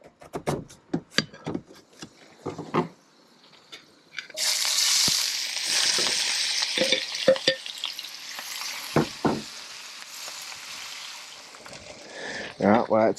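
Chopped onion and potato fry in a pan outdoors, a steady broadband sizzle that starts abruptly and carries on loudly, with intermittent talking and handling clatter before and during.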